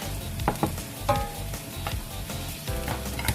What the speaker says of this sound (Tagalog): So, ilalagay ko po yung ating garlic, minced garlic.